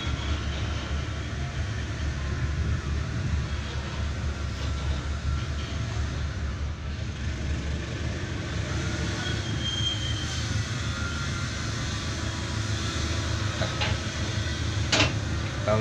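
An Indonesian passenger train with an NR carriage rolls along near Nganjuk on the Madiun line, giving a steady, loud rumble with rail noise throughout and a few sharp clanks toward the end.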